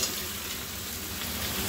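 Pieces of hog plum hit hot spiced oil for a sweet, sour and spicy pickle, giving a steady, dense crackling sizzle that holds evenly for under two seconds.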